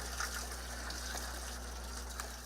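Water gushes steadily from a hose fed by a diverted stream on a tropical mountain coffee farm, a continuous close splashing rush with no talking.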